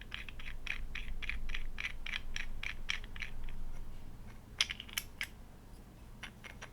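Small screw being turned to join two parts of a cross-stitch kit accessory, a series of quiet rapid clicking and ratcheting ticks, then a few sharper isolated clicks near the end.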